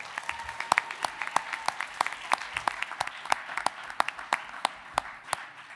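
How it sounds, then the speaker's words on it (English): An audience at a Board of Education evening ceremony gives student honorees a sustained round of applause. Sharp individual claps stand out from a dense, steady wash of clapping that carries on at a fairly even level throughout. "How about one more big round of applause for all of our honorees?"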